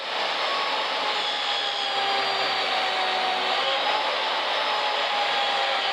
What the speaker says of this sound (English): It's actually quite impressive that the saw just eats all the stainless it encounters.